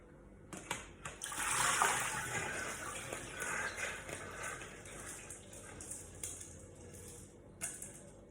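Liquid, cooking water from rice, is poured back into a pot, giving a soft gushing splash that swells early and then trickles and clinks quietly for several seconds.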